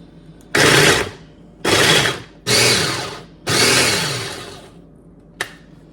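A kitchen appliance finely chopping pesto ingredients roars in four loud bursts of roughly half a second to a second, separated by short pauses, with one brief final pulse near the end.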